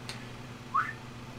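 A single short wolf whistle during Lawn Mowing Simulator gameplay, a quick rising tone that is clear but brief over a steady low mower drone, with no talking.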